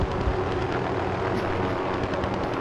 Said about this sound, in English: Yo, fuck this chopper.